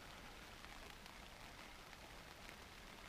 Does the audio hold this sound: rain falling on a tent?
yes